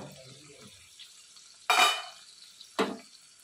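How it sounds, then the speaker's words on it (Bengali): A lid comes off a pot of boiling potatoes on a gas stove in a home kitchen, with two short, sharp bursts of clatter and hiss against a quiet background. "এবার আমি গ্যাসের ঢাকনাটা সরাবো।"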